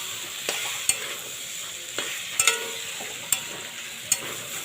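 Khaja mango pieces stirred with salt in a frying pan, a spoon scraping and knocking in sharp, irregular taps over a soft, steady sizzle.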